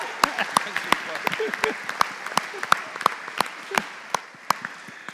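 A church congregation applauds its graduates with scattered, sharp individual claps ringing out above a lighter patter, a modest crowd clapping fairly close by in the sanctuary.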